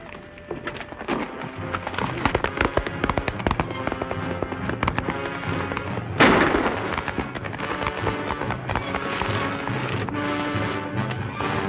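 Gunfire in a 1940 western: a dense, crackling run of shots and bangs with a heavy burst partway through, mixed with galloping hooves and the clatter of a chase, loud and continuous.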